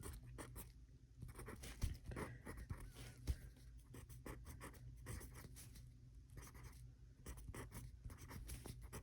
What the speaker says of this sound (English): Let me write these out.